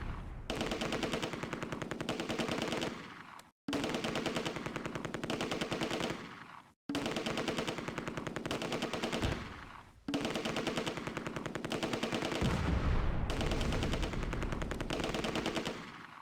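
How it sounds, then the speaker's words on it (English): A Vickers machine gun rattles in long sustained bursts in the WWII game Close Combat, four extended strings of rapid fire separated by short pauses, loud and close, with no talk. "The Vickers targets the Aufklärer in the open, but then switches targets to the more dangerous MG42."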